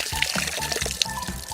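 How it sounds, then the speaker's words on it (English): Water is poured over candies for a candy rainbow experiment, a brief run of close splashing and trickling. "Now we pour the water."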